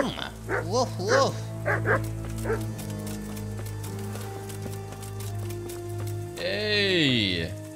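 A dog barks in Kingdom Come: Deliverance, giving a quick run of close, sharp woofs at the start. Game music and a voice carry on beneath once the barking stops, and a whining, drawn-out call rises near the end.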